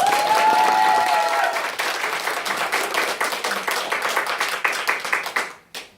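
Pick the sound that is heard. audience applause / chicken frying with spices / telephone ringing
audience applause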